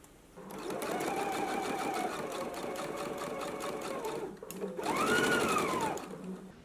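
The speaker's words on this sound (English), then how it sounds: "you want to go ahead and stitch it at a 5/8 of an inch seam allowance" A sewing machine stitches a 5/8-inch seam on a top, running steadily at close range with a short pause before a faster second burst.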